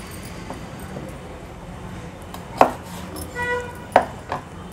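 Raw jackfruit being chopped into pieces, with a few sharp knife strikes landing irregularly against a quiet kitchen background.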